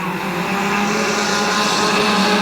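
Compact race cars roar around the Midvale Speedway oval in 2013, several running close together in a battle for the lead, their engines a loud, continuous, steady drone with no pauses.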